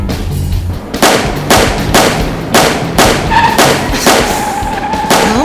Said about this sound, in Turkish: Silah sesleri gelmeye başladı.